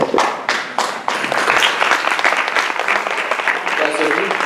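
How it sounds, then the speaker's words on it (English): An audience at a Democratic officials and candidates meet-and-greet gives candidates a burst of close, loud applause. The crowded clapping swells after a few sharp opening claps and carries on to the end with some voices mixed in. "If we can give them a hand real quick for showing up."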